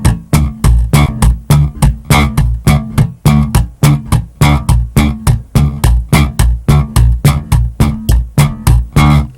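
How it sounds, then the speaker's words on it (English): A bass guitar is played with a hammer technique, the hand slapping against the strings, making a loud, steady, rhythmic series of punchy percussive thumps with muted low notes, close and with no talking. "taking the hand and slapping up against the strings"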